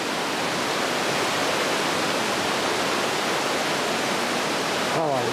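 A river flowing at a bridge near a rural Japanese hamlet produces a dense, constant broadband rush of water, loud and close with no breaks.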